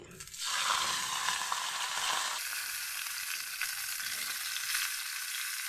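Cauliflower and potatoes fry in oil in a wok, a loud, continuous hiss and crackle close up that surges as the vegetables go in and then settles into a steady sizzle, with no talking.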